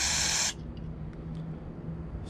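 Carburetor cleaner sprays into a Predator 3500 generator's carburetor in one close, loud hissing burst of about half a second, followed by a quiet room hum and faint ticks.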